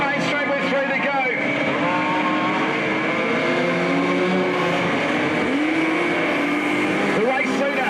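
Modified sedan race cars on the Albany Speedway oval at night, engines roaring and whining together with rising and falling pitch, loud and continuous, while a commentator calls the race over the top.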